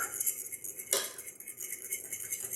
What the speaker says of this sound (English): So we're going to drop the egg in slowly as we stir.